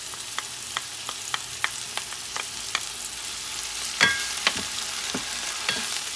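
Sofrito sizzles in a pan for a Puerto Rican salted cod stew, a steady soft frying hiss broken by repeated sharp clicks and scrapes of stirring, louder around the middle, with no talk.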